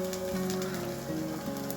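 Ragi adai flatbread cooking in a little oil on a hot tawa, giving a steady, close sizzle and crackle that runs evenly without a break and with no talk.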